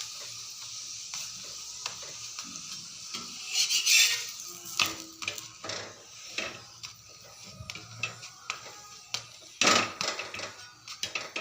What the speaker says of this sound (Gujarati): ગેસ આજુબાજુથી સરસ રીતેથી જે આપણો પરોઠો છે એને આપણે થવા દઈશું